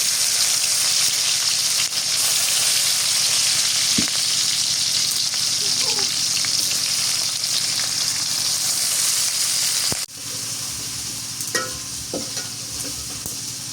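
Chopped onions sizzling loudly in hot oil for fish curry, a steady bright crackle with occasional stirring scrapes and clinks, the sizzle dipping briefly after about ten seconds before carrying on.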